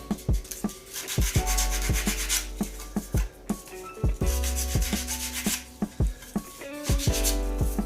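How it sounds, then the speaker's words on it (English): Sandpaper rubs swarf off a cast resin shaving brush handle blank in a series of close, rhythmic scratchy strokes, punctuated by sharp taps and knocks. "just taking any of the swarf off. Well, it does come off with sandpaper."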